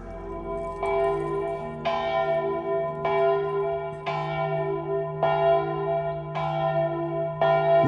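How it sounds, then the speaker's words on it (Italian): Church bells of Vallombrosa ring outdoors in a slow, steady peal, with a new loud strike roughly every second and long resonant hums sustaining beneath each stroke. "Quale miglior conclusione di questa, le campane di Vallombrosa?"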